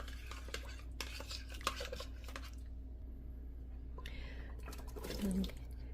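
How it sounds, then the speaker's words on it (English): A utensil scrapes browned fond off the bottom of a pan after a splash of red wine vinegar, with a few scratchy passes and clinks at close range under low hiss and faint whispering. "scraping off the fond from the bottom of the pan"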